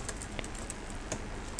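Keys tapped on a computer keyboard in short, irregular clicks spread across a brief stretch, fairly quiet against a steady background hiss, with no voices.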